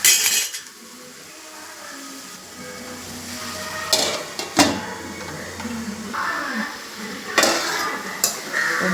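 Okra stir-fry with curry leaves being stirred in a pan, a spatula scraping and clinking against the metal in a few sharp strokes over a soft, steady sizzle.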